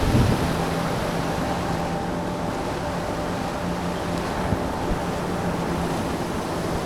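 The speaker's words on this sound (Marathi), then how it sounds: "बघू शकता तुम्ही इथे किती छान पूर आहे." Steady, heavy rush of floodwater pouring over a road in the Jawhar ghat, a broad continuous roar with no pauses, with wind buffeting the microphone and no voices.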